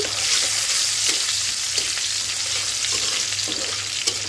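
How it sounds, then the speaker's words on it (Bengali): Garlic fries in hot oil for a tempering over greens, giving a loud, dense, steady sizzle with faint stirring clicks throughout. "এখন রসুন দিয়ে বাগার দিব তেল গরম রসুনও দিয়ে দিয়েছি"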